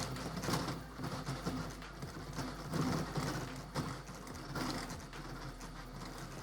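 A 3D printer speed-prints a benchy, whirring and buzzing with busy rapid stepper-motor movements that rise and fall in short bursts, close and moderately loud, shaking the bench.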